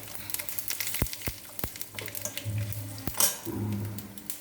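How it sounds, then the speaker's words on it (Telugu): Curry leaves and mustard seeds crackle and sizzle in hot oil for a tempering, with a low steady fry broken by several sharp pops and spatters and a clink of a utensil against the pan. "వేగేటప్పుడు చక్కగా కరివేపాకు వేసి ఒక 1/2 టీ స్పూన్ ఆవాలు,"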